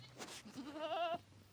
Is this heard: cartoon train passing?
no